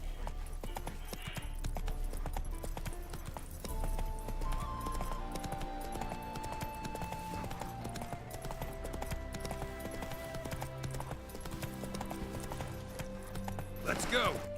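Galloping hooves of Roach, the horse in The Witcher 3: Wild Hunt, thud in a steady clip-clop rhythm under game music and ambience, with a brief louder burst near the end.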